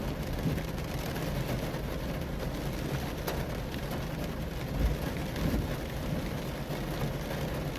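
Steady broadband rain falling continuously over Birkenhead Bridge in Port Adelaide, a dense even hiss with a few faint louder patters, no voices.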